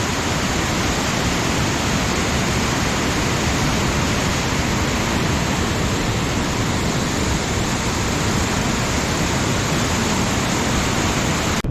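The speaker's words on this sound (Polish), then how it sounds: "potężna woda" A strong torrent of water roars without letup in Norway, close and loud, a constant broadband rush that holds evenly throughout with nobody speaking.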